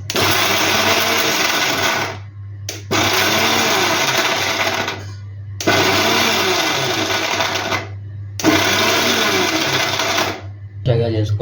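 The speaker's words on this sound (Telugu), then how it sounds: "చూపించినవన్నీ మిక్సీ పట్టుకొని పెట్టుకోవాలి." A mixer grinder blends chicken curry paste with water, roaring loudly and close in four sustained bursts separated by brief pauses, with a steady low hum throughout.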